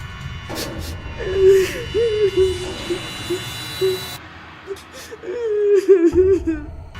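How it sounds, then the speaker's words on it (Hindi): Distant sobbing in a Hindi horror story, faint whimpering cries that come in uneven bursts over a dark, low ambient bed, with wavering sob-like pitches and a quiet stretch near the end. "तभी दूर किसी के सिसकने की आवाज सुनाई देती है।"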